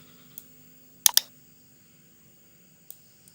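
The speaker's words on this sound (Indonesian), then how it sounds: "Kemudian saya tekan enter di keyboard." Someone presses Enter on a computer keyboard: a quick double click stands out in a quiet room, with a few fainter taps before and after.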